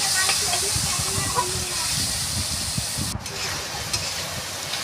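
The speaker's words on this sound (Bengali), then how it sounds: "টমেটোটা দিয়ে ভেজে নিচ্ছি" Tomato frying in a pan for chicken curry: a steady, close hiss and sizzle with soft scraping and stirring taps, and a voice now and then.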